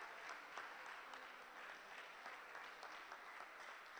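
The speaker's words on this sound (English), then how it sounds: "Let's continue to clap." Continuous applause from a conference audience for a professor's fellowship award, a dense, even patter of many hands heard at low level from a distance.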